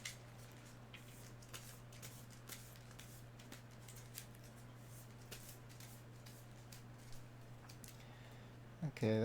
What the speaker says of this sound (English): they want you to shuffle the Scourge Rises and then shuffle the 1 stronghold card